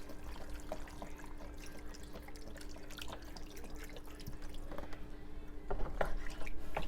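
Stock pours into a pot of jambalaya, a soft steady trickle and splash with light drips against a constant low hum, no voices.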